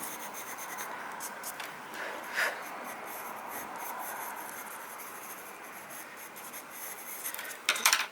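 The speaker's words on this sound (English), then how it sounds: "let's try one of these pencils" Soft, continuous scratching of a pencil on paper, steady and close, with a brief louder stroke midway and a rougher burst near the end.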